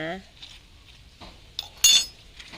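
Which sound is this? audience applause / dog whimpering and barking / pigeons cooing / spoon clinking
spoon clinking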